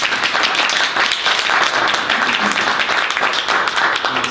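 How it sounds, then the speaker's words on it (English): Audience at a poetry book launch in a bookstore gives a round of applause for a poet, dense steady clapping throughout the short stretch. "And another round of applause for Tim."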